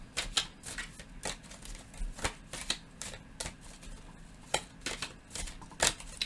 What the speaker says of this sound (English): Let me pull out a couple of these oracle cards and see if there's anything else that they would like to add.